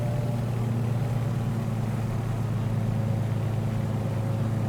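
Twin piston engines of a simulated Beechcraft 18 in Microsoft Flight Simulator, a steady droning hum near 2,000 RPM, constant and close with no talking.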